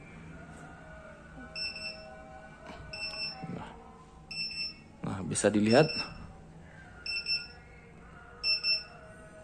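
A smart trash bin's electronic buzzer beeps in short, evenly spaced high bursts, warning that remaining capacity is below 14%, repeating several times while a person talks over it.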